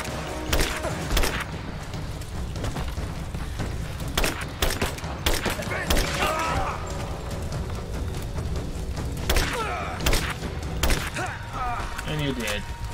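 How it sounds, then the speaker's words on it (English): Rapid, dense gunfire bursts from a Rise of the Tomb Raider firefight, steady and loud throughout, with scattered thumps and voices talking over the shooting. "Give me suppressing fire!"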